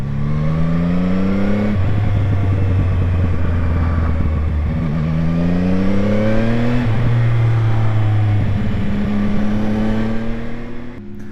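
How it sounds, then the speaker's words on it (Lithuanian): A CFMOTO 675NK three-cylinder motorcycle engine pulls under load while riding, its revs climbing repeatedly through gear changes with a smooth, close, continuous drone and no talk. "jau laidos pradžioje minėjau, kad man labai patinka 3 cilindrų motociklų garsas. Bet šis variklis skamba taip gerai."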